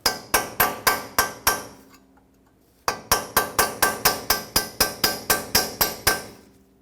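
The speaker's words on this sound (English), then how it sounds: "Take a chisel and hammer it right in here." Steel hammer driving a chisel into the pinch bolt slot of a 2012-2019 Fiat 500 front lower control arm, a run of sharp metallic strikes, a brief pause, then a longer steady series of close, ringing blows.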